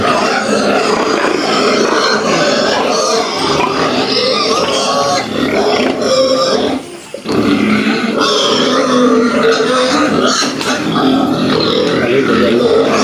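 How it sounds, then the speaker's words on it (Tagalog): A pig being taken away to slaughter on an organic farm, grunting loudly and continuously at close range with a brief pause in the middle. "Kukunin na yung ating baboy."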